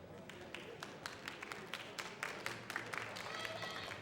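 A live crowd at a Melee Top 8 esports tournament gives thin, scattered applause for the players, with faint, uneven clapping and some crowd murmur running throughout.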